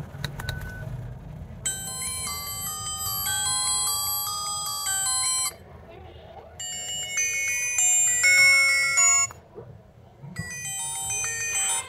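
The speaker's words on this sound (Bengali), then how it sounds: "আমরা বরাবরের মতো এই ফোনটির যে রিংটোন সেটা একটু চেক করে নিব" A QPHON QP6 keypad feature phone plays its ringtone, a bright electronic melody heard in three bursts separated by short gaps, clear and close over a low background hum.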